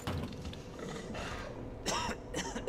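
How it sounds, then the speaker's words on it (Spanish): A zombie in Resident Evil 2 Remake lets out two short, raspy coughing bursts near the end, over a low, steady game ambience with faint mechanical creaks. "no está estornudando, está tosiendo"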